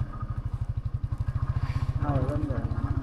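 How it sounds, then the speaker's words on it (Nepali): A motorcycle engine chugs in a rapid, even pulse that swells slightly toward the end, with a voice speaking over it. "हाम्रो बाइकको रेस बढी भयो"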